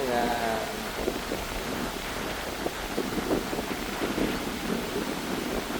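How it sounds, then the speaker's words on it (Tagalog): Strong gusting wind on a beach in Boracay, Philippines, buffets the microphone in a constant broadband roar, with a voice speaking intermittently underneath. "kasi malakas yung hangin."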